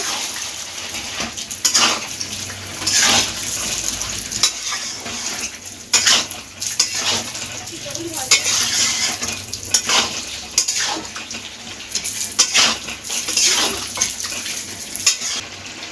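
Chicken sautéing in a pan with a spoonful of ground coriander for a green coriander chicken dish, with repeated metal spoon scrapes and clinks against the pan over a low sizzle, close and steady with no talking.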